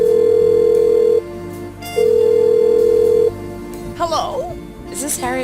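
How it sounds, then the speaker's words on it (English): A phone call in the adventure game Blackwell Unbound: two long, loud dial-tone bursts separated by a short gap, then a brief ringing burst and a voice. "Oh, well, let's call the phone number then."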